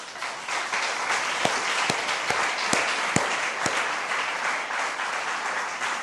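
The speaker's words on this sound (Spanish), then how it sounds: "Por favor, denle un aplauso a Dios" A church congregation at a Spanish-language sermon in London breaks into steady applause, a dense wash of clapping with a few sharper claps standing out, sustained and fairly loud throughout.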